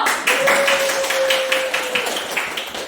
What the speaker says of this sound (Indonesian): Tepuk tangan untuk Rio